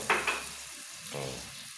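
Water splashes into a hot pan of simmering pork batok (pork neck) and sets off a brief, bright sizzle that quickly fades to a soft, low bubbling.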